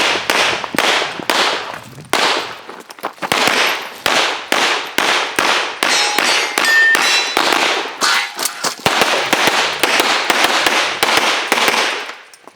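Rapid pistol gunshots during a USPSA competition stage with steel poppers, a long string of sharp cracks in quick rhythmic bursts, some with metallic ringing from rounds striking steel, loud and close with no talking.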